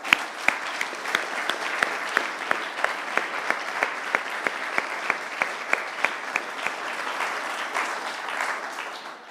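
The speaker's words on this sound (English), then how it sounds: "Let's please give Jamal and all the young people here a huge round of applause." Sustained crowd applause from an audience at a London event on knife crime, dense and steady with sharper individual claps standing out, lasting throughout and fading slightly at the end.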